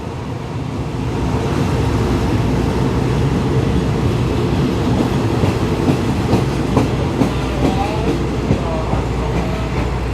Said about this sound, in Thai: ขบวน112นะครับผมก็จะไปถึงกรุงเทพอภิวัตเนี่ยในช่วงเย็น